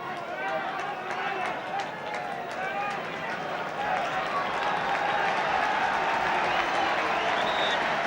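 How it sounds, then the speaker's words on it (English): A football crowd at a Manchester United versus Ipswich Town match applauds the arrival of substitute Sammy McIlroy, a broad, distant wash of clapping and crowd noise that runs steadily beneath a commentator's voice. "that applause greets the appearance of the Manchester United substitute Sammy McIlroy"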